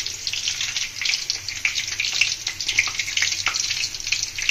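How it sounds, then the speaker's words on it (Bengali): Whole garam masala, including bay leaves, cardamom and cinnamon, sizzles steadily in hot oil for an egg curry, a close, continuous crackling hiss with small pops, alone without talk. "প্রথমে গোটা গরম মশলা ফোড়নে যাবে, তেজপাতা, এলাচ, দারচিনি"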